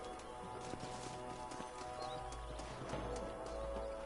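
Horses in the Red Dead Redemption video game shuffle and clop their hooves after the riders dismount, a steady run of close hoof steps with a brief whinny, set against a continuous background rumble of game ambience.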